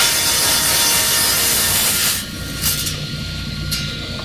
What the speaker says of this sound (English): So now we turn the board and do another 4-inch cut